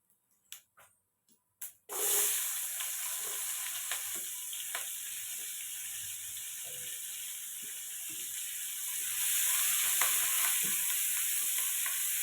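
Onions frying with bay leaf in hot oil for egg paneer biryani, a steady loud sizzle starting after a few soft clicks, with occasional stirring scrapes and a brighter surge of frying near the end.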